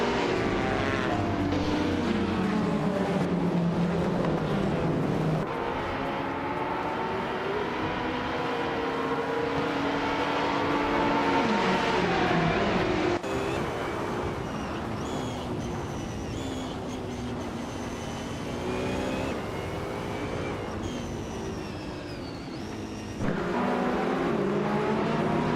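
A 2018 Ferrari 488 GTE race car in a racing video game at Calabogie, its engine roaring steadily and rising and falling in pitch through gear changes, with other cars' engines layered in.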